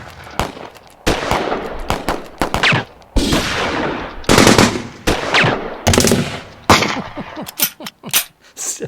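Gunfire at outdoor practice shooting: rapid bursts and single sharp cracks in irregular clusters, loud and close, continuing for several seconds with brief gaps.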